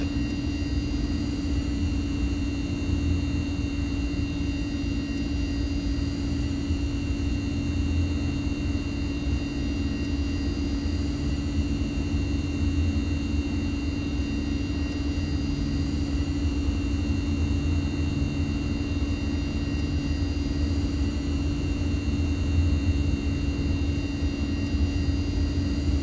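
A Mitsubishi MU-2 turboprop taxis in Microsoft Flight Simulator with reverse thrust worked in and out, giving a steady, droning turbine whine and low rumble that stays even and constant throughout.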